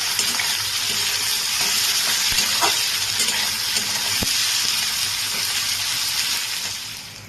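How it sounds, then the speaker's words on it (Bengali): Onions with salt sizzle steadily in a hot pan, a continuous crackling hiss with a few faint stirring clinks, fading slightly near the end. "নুন দিয়ে এটাকে ভাজা করবো তাহলে পেঁয়াজটা আমার তাড়াতাড়ি ভাজা হয়ে যাবে"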